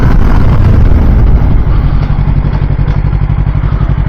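A 2024 Yamaha R3 motorcycle being ridden, its engine a loud, close throbbing drone with wind rush, the pulsing firing rhythm growing more distinct as it goes, no talk.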